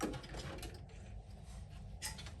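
A sewing machine stitches strips of fabric onto a quilted crossbody handbag, giving a quiet, steady mechanical whir with faint clicking, heard alone without talk.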